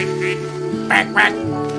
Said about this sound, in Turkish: Ördekler, kazlar uçuşuyor.